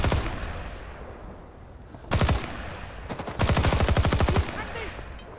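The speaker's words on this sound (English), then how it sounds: "Oh crap, we actually got fire support from a spooky gunship." Bursts of rapid gunfire from an AC-47 Spooky gunship in Rising Storm 2 ring out loud and close: one short burst and then a longer sustained rattle, with combat noise around them.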